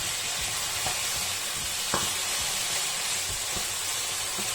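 Food sautés in a pan before coconut milk goes in, giving a steady, close sizzle with faint scraping stirs and occasional light utensil clicks.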